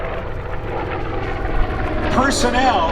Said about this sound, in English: here come the V-25s again